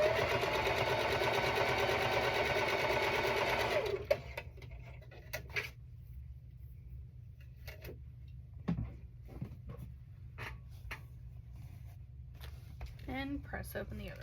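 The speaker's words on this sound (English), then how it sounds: "I'm gonna go ahead and sew the other side." A sewing machine stitches a quilt seam in a fast, even, close whir for about four seconds, then stops, followed by scattered handling clicks and quiet movement.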